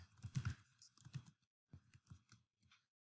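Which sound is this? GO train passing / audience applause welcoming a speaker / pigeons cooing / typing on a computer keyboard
typing on a computer keyboard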